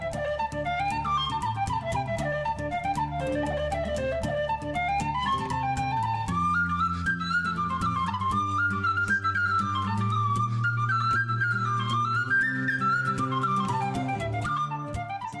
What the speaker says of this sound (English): plays incredibly fast on tin whistle, but his whistle playing is actually very smooth, very fluid